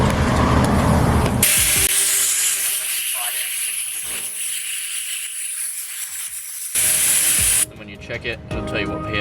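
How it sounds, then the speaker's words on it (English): Air rushes loudly from a vehicle tyre whose valve core has been removed, a strong close hiss running continuously, briefly muffled midway then surging again, with people talking around it. "Let the tyres down really quickly because the valve's not in there anymore to stop the air from coming out."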